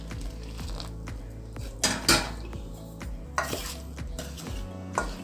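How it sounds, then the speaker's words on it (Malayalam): Rice flour for idiyappam is worked with hot water in a bowl, with irregular scraping and clinking of a spoon against the vessel and a few louder knocks, no voices. "ഇതിലേക്ക് ആവശ്യമുള്ള വെള്ളം ഒഴിച്ച് കുഴയ്ക്കണം."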